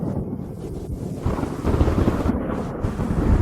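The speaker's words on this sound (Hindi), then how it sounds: "बारिश शुरू हो गई है।" Rain falling with low rumbling thunder, a loud, dense wash of noise with gusty, deep swells throughout and no voices.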